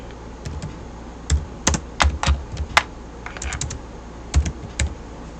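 Keys clack on a computer keyboard while text is typed into a Microsoft Word document, in quick irregular bursts of close, crisp keystrokes over a quiet room hum, with no speech.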